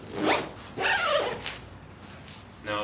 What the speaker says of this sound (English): I'll fold it closed and zip.